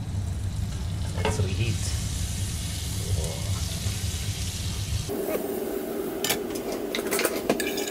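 Pork fries in butter in a pan with a steady, close sizzle, joined by stirring and the clink of a utensil against the pan, with the sound shifting partway through.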